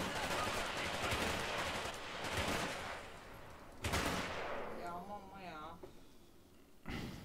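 Gunfire in the War Mongrels video game, with sharp shots and bursts amid busy game sound, several loud cracks spaced through the clip under ongoing noise.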